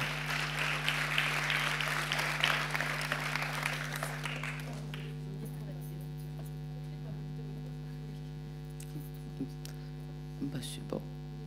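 Applause from an audience in a hall at an awards presentation, steady for about five seconds and then fading out, with a constant electrical hum underneath throughout.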